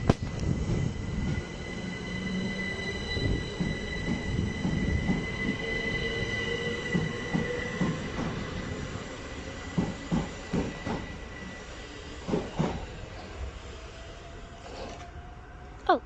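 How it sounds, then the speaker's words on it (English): A four-coach train pulls out of Sydenham station, its wheels squealing in long rising tones over a steady rail rumble, with sharp clicks and clacks from the track as the carriages roll past at close range. "the train is leaving. And it's a 4-coach train"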